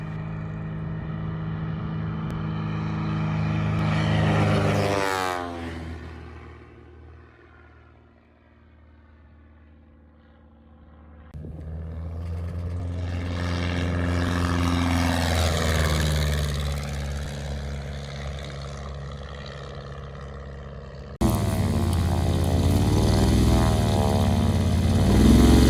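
A light tail-wheel aircraft's propeller engine roars past, swelling and fading as it passes, then a second plane approaches with a rising, throbbing drone, ending in a close, loud engine buzz.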